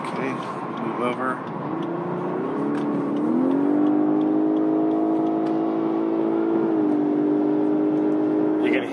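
A 2020 Lexus LS500h AWD hybrid with a CVT accelerates in Sport Plus mode, a steady rising engine drone with piped-in sound holding a smooth climbing tone from inside the cabin, with a voice speaking over it.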